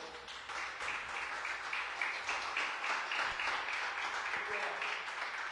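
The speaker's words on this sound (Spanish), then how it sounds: "Dele un aplauso al Señor." A congregation breaks into sustained applause, a full, steady clapping crowd that holds at an even level throughout.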